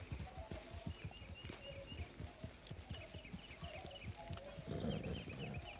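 Horse hooves clip-clop at a steady trotting rhythm in Red Dead Redemption 2, close and continuous across the whole stretch, with faint melodic tones drifting in the background.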